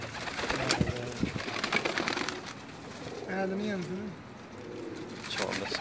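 Pigeons coo on a rooftop loft in Jeddah, soft throaty rolling calls under nearby conversation with light background rustle.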